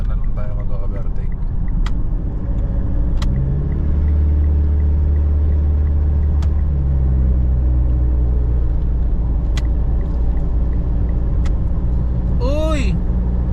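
Car engine and road rumble heard from inside a vehicle overtaking a Hilux on a drive in Isabela, a steady loud drone with the engine pitch rising and falling, plus a brief chirping squeal near the end.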